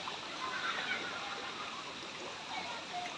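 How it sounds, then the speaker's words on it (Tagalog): Steady broadband rush of water flowing at a natural hot spring, continuous and fairly close, with faint voices talking over it. "Hot spring yan."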